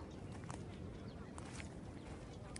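A tiny duckling floating on water gives soft, faint quacks and peeps, scattered over a steady outdoor hiss.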